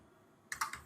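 Several quick keystrokes tapped on a computer keyboard while filling in a form, four crisp clicks close by in the second half after a quiet start, with no talking.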